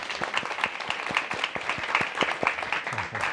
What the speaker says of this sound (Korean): 박수 한번 좀 부탁드릴게요